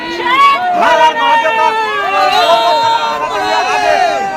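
Hundreds of kanwar pilgrims gather on the bank of the Ganga at Jahnavipur during the month of Sawan, filling the air with a steady, close babble of many overlapping voices and calls.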